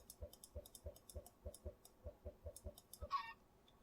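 A chicken in a Minecraft boat clucks in a quick, evenly spaced run of short, quiet clucks, ending with a brief higher squawk-like burst, with nothing else heard.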